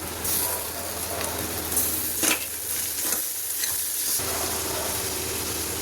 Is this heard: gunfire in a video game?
no